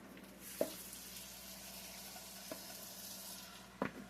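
Meatloaf mixture poured into heated grease sizzles as a steady, soft crackling hiss, broken by a few sharp pops and clinks of a utensil.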